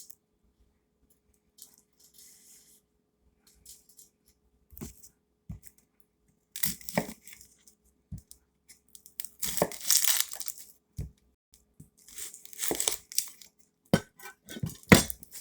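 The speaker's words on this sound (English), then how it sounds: "I'm just gonna chop a red onion" Knife chopping a red onion on a board, scattered crisp cuts at first, then denser bursts of rapid chopping and crunching, close and fairly loud, no talking.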